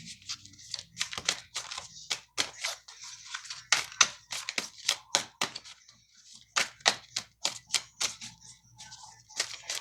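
Tarot cards being shuffled and drawn, a rapid uneven run of close crisp flicks and soft slaps spread over several seconds, with no talking.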